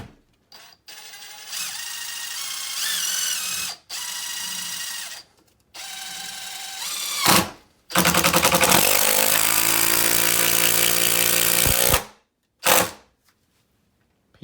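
Festool TID 18 impact driver with a Torx 25 bit driving a screw: loud, close bursts of rapid hammering impacts separated by short pauses, with a longer final run and a brief last burst.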